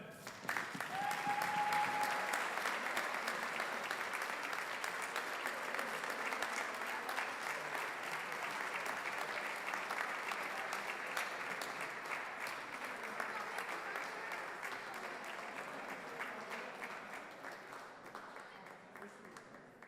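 Audience at a Milford Board of Aldermen city meeting applauding a youth baseball team, a steady sustained round of clapping that fades slightly toward the end, with a brief voice near the start.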